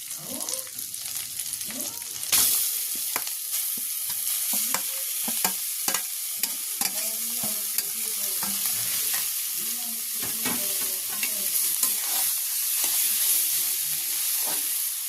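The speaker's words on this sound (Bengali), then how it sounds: "সবগুলো ভালো করে নাড়াচাড়া করে মিশিয়ে নিচ্ছি।" Boiled cauliflower is stir-fried in a hot pan for a paratha filling. A steady loud sizzle runs throughout, broken by repeated scraping and clattering strokes of a spatula at close range.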